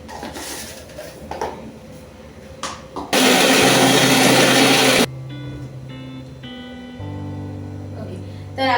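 A kitchen mixer grinds peanuts into peanut butter, with a small pinch of salt added, giving a loud steady whir that runs alone for about two seconds midway before dropping to a lower, lighter hum under quieter noises.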